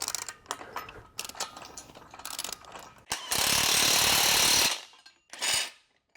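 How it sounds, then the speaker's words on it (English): Bolts on a SMAI Vanta half power rack being tightened: rapid ratchet clicks in short bursts, then a loud, sustained buzz of a powered driver for about a second and a half, followed by a shorter burst. Close and no talk. "we're going to give a tighten on all these bolts, just a little more, but not all the way just yet"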